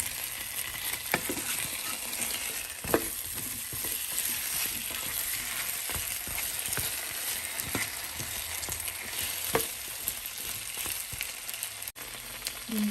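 Potato slices fry in a pan with a constant, close sizzle while a utensil stirs and scrapes through them in irregular clacks and scrapes.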